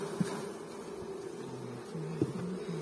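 Honey bees buzz around the hives of an apiary, a steady low droning hum from nearby with a few individual bees passing closer and louder.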